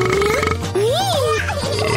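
A cartoon burp, drawn-out and pitched, rising and falling, close and fairly loud, with a voice sounding around it.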